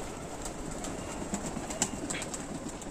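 Young pigeons in a loft just after rain give faint, soft cooing under a steady background hiss, with a few brief sharper chirps standing out.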